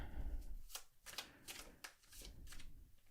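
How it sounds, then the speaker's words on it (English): A deck of tarot cards is shuffled by hand in a quiet room, with several quick riffling bursts falling in an uneven rhythm, close and faint. "I want to shuffle a little more. I feel like I didn't shuffle enough from the last reading."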